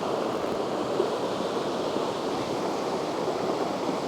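The Rieubel mountain torrent at Villard-Gondran flows as a steady, even rush of water, continuous and moderately loud with no other sounds over it.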